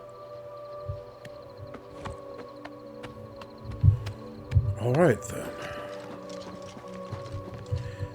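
Horse hooves clip-clop steadily in Oblivion Remastered, a moderate rhythmic trot under a sustained game music drone, while someone speaks briefly over it.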